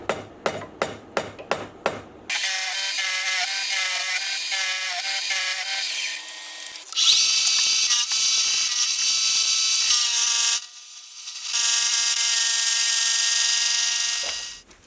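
A milling machine cuts metal stock for a jack plane, a loud sustained whining tone that shifts pitch and pauses briefly, preceded by a quick series of sharp taps.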